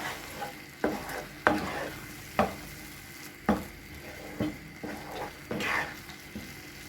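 A spoon stirs brinjal masala with chopped coriander leaves in a pan, giving about a dozen separate scraping strokes against the metal over a soft, steady sizzle, close and clear, with nobody speaking.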